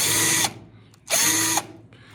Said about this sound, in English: what I'm going to do next is take my drill